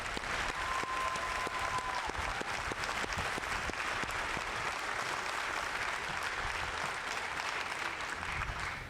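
Sustained applause from a large crowd at a Fort Benning infantry graduation ceremony, steady clapping that fills the whole stretch and tapers slightly at the end.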